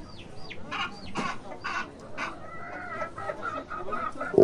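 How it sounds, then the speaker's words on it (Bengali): Chickens at a village vegetable market cluck and call repeatedly in short bursts, fairly close, over a busy background murmur. "আরে মুরগিগুলো তো ভালোই দেখা যাচ্ছে"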